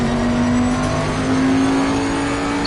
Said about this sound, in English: I just hit the limiter all the time